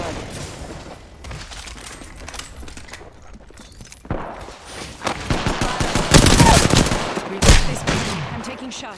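Rapid bursts of gunfire in the video game Apex Legends crackle in quick volleys, sparse at first and then louder and denser, with several sharp, close shots near the end.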